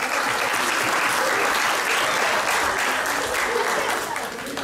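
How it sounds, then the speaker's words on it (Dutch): A crowd at a kickboxing bout between two young fighters breaks into dense, continuous applause, loud and steady throughout with a faint voice under it, easing slightly at the end. "deze twee heren zou ik heel graag een groot applaus willen."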